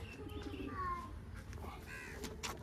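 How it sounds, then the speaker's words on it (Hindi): Soft, low pigeon coos murmur nearby, with a few faint chirps over a quiet outdoor background. "ये कुछ बड़े कबूतर"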